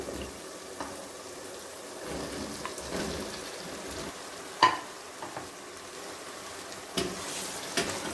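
Pumpkin cubes for kaddu halwa sizzle softly in a pan as they are stirred through spices, a steady low fry broken by occasional scraping clicks of the spoon, with no talking.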